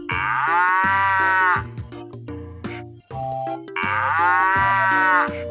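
Two long, loud cartoon cow moos come a few seconds apart, each sustained over a cheerful children's tune playing underneath.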